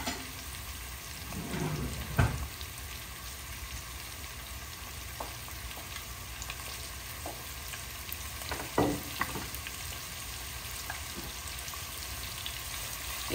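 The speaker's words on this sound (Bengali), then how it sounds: "ডিম আর আলুগুলা ভেজে নিচ্ছি একটু" Eggs and potatoes frying in a pan, a soft steady sizzle with a few louder scrapes and stirs at intervals, no voices.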